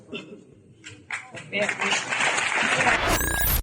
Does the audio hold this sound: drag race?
no